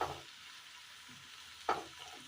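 A small batch of a Kerala tea-time snack fries in a little oil. A quiet, soft sizzle sits beneath two distinct stirring scrapes, one at the start and a louder one later, with no one talking.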